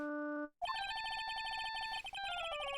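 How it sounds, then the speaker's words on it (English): A phone ringtone from the Phoenix Wright: Ace Attorney video game plays loud and alone, a brief steady tone followed by a busy, continuous electronic melody of bright beeping notes. "I bet it was this ringtone that caused it"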